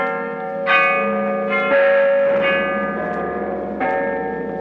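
Church bells ring below a hillside, several clear tolling strikes in a slow sequence, each one sustained and overlapping the last, moderately loud with no voices.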